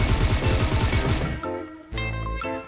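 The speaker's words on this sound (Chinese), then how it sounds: "不好，有人在朝我开枪" Gunfire in the PUBG Mobile battle royale game: a rapid automatic burst of shots fires close and loud for over a second, followed by a couple of lone blasts and a tonal game sound.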